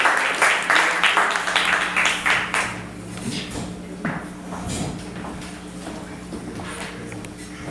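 Audience at a spoken word poetry night claps for a performer, a burst of applause that fades over several seconds into scattered claps and room murmur.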